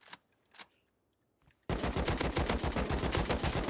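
Gunfire in the survival video game Rust: a few isolated shots at first, then a loud sustained burst of rapid automatic fire with a steady rhythm, up close and unbroken.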